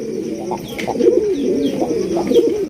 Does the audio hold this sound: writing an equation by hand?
no